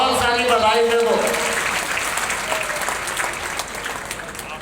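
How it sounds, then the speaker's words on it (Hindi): Audience applause fills a hall at a Madhya Pradesh working journalists' union convention in Morena, greeting Chief Minister Dr. Mohan Yadav's birthday. Steady crowd clapping carries throughout, with a voice speaking over it at the start. "जन्मदिन की भी तालियां बजाकर बहुत सारी बधाई दे दो"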